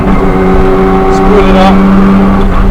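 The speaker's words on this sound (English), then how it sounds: "Turbo is just coming in there" Nissan Skyline R34 GTR with its turbo coming in: a loud, steady engine drone with a rising whine building over a few seconds, heard from inside the car without a break.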